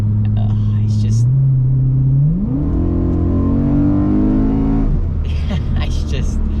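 A BMW E92 M3 V8 revs hard under acceleration, its engine and exhaust note climbing steadily in pitch to a loud scream, then dropping back to a lower drone as it settles.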